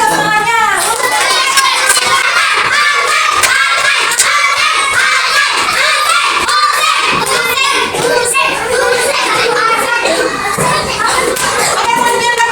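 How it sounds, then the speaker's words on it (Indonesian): A class of third-grade children claps and cheers loudly together, with excited shouting and chatter running steadily throughout at close range. "Kasih tepuk tangannya."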